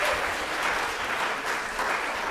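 A church congregation claps in a short, dense, even round of applause, fairly loud and continuous, with no speech standing out.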